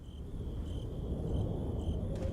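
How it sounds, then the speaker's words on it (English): Crickets and wind in a Resident Evil 4 outdoor night scene: a steady high cricket chirp pulses over a soft, continuous low rumble of wind, with no voices. "the crickets and the wind sound remarkably clear"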